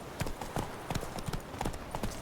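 Horse hooves clip-clopping in the video game Witcher 3, a quick, even run of crisp hoof strikes repeating at a steady trot, close and moderately loud, with faint game ambience behind.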